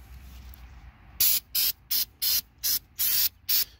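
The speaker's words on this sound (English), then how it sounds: "You don't have to be really cheap or really expensive carb cleaner." Aerosol carb cleaner sprayed in seven short, sharp hissing bursts into the air filter box of a 2017 Chevy Traverse, close and loud with brief gaps between each spray.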